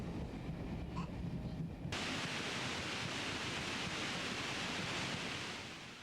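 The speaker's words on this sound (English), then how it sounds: "This is the white noise that Myris is hearing all the time." A steady, loud hiss of white noise fills the clip, broadening abruptly after a quieter opening, then holding constant before slightly fading.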